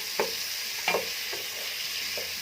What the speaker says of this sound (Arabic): هندي بقى تشويحه كده جميله